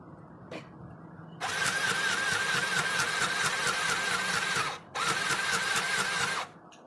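A mini sewing machine stitching with bobbin thread, a loud continuous motor whir with rapid needle rattle that runs for about three seconds, pauses briefly, then starts again.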